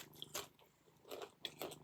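A crunchy Dominican Republic snack gets bitten and chewed in several close, faint crunching bursts with quiet pauses between them, and no talking.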